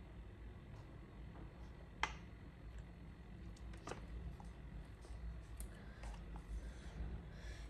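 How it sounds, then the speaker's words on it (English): Children in a second-grade classroom snap their fingers softly, a scattering of faint, sharp clicks at irregular intervals with one crisper snap standing out, over a quiet room hum. "make sure to snap your fingers nice and quietly"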